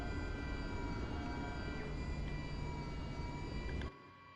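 MV-22 Osprey engine in Microsoft Flight Simulator 2024 on PS5, a busted aircraft after shutdown, giving a steady faint whining hum with tonal drones that drops away abruptly near the end.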